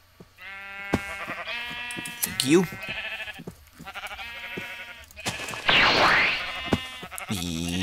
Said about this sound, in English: But now I need to go shear my red sheep.